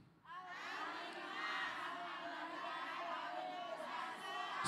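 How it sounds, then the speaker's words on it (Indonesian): Audience at an Islamic religious gathering cheering and clapping, a lively crowd swelling in loudness from start to end, with voices shouting among the applause. "Tepuk tangan dulu yuk."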